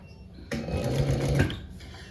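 Sewing machine stitching a seam joining leather pieces, a short, close burst of rapid mechanical whirring and needle clatter lasting about a second between quieter pauses.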